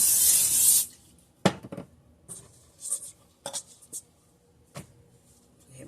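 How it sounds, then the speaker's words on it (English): A loud burst of cooking oil spray hisses onto a bowl, followed by scattered soft rubbing and tapping noises in a quiet room. "Spray our bowl here."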